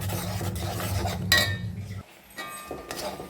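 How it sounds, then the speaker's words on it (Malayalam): Wheat flour is stirred into boiling salted water in a pan for chapati dough, with close scraping and clinking of a spoon against the pan and a brief quieter pause, no talk. "ഇതൊന്ന് നല്ലോണം ഇളക്കിയിട്ട് കുറുക്കിയെടുക്കണം."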